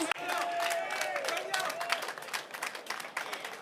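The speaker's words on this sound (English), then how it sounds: "Everyone can just give him a round of applause" Crowd at Kenilworth racecourse applauding the Cape Town Met winner Double Superlative and jockey Daniel Muscat: steady, dense clapping lasting throughout, with a voice talking over it.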